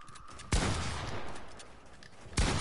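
Fortnite gunfire: two loud, close, sharp shots about two seconds apart, with dense crackling noise filling the gap between them.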